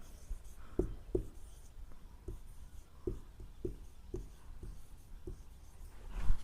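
A pen writes notes by hand on paper, giving quiet, close, irregular scratches and taps with short pauses between strokes, with faint room sound underneath.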